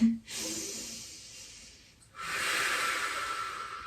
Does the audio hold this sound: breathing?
yes